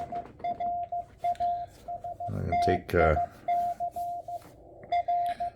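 Morse code comes through a Tecsun H-501X shortwave radio as a steady series of clear beeping tones in dots and dashes, with static between them, while someone talks briefly in the middle.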